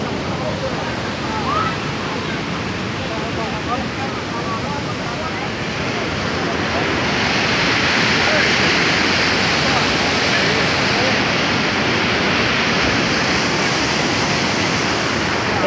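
Rushing floodwater surges loudly and steadily after heavy rain, a dense broadband roar that swells slightly halfway through, with no clear voices over it.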